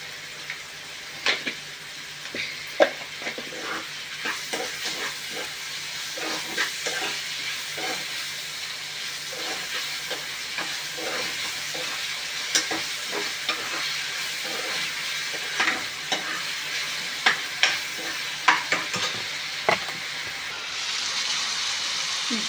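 Onions sizzle and fry in a pan with salt and a little turmeric, a steady hiss broken by repeated scraping stirs of a utensil, close and moderately loud.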